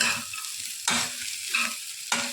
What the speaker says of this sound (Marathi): आपल्या भाज्या चांगल्या भाजलेल्या आहेत बटाटा तर पूर्ण आता याच्यात नसणार शिजलेला